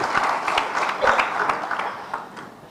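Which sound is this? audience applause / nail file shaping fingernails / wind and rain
audience applause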